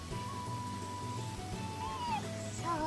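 In the video game Sakuna of Rice and Ruin, a cat lets out a soft, drawn-out meow over quiet background game music, faint and alone without speech.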